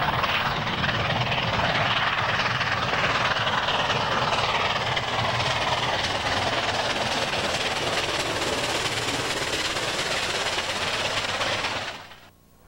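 A steam locomotive hauling a train in South Africa rumbles past close by with a steady, loud mechanical roar and chuffing drive for the whole stretch, then fades out abruptly at the end.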